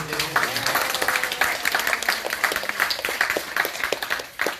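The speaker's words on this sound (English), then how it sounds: "let's give a round of applause to our students" Audience applause for students after a mock trial, dense scattered clapping filling the room, loud and sustained with faint voices underneath.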